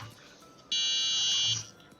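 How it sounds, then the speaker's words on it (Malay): A buzzer on an Altino robot car programmed with Arduino sounds while the car drives, a sharp steady high-pitched tone lasting about a second, loud and close, with faint room noise before and after. "buzzer tu saya buat dia bunyi bila dia berjalan ke depan dan ke belakang"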